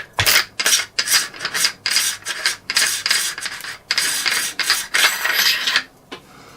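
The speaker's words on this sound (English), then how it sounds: "And if I want to take this apart further, I unscrew this." A threaded part of a Panzer BP12 shotgun is unscrewed, giving close, repeated gritty metal rasps in quick bursts with brief pauses between turns and no talking.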